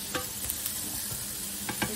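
Mashed potato and chicken mixture being stirred in a pot, a short close burst of wet scraping and sizzling with a few clicks of the utensil against the pot.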